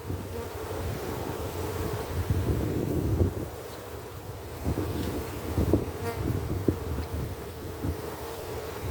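Honey bees swarm around a beekeeper working an open hive, filling the air with a steady, dense buzz. Wind rumble runs underneath, and a few soft knocks break through.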